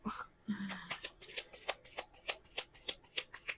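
Small cards for a card reading are handled and shuffled close by, a quick series of crisp riffling flicks and taps in steady rhythm, with a brief low murmur of voice near the start.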